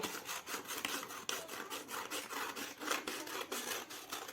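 Scissors cut strips of paper, a steady rhythmic series of quiet rasping snips and rustles, close and faint, with no talking.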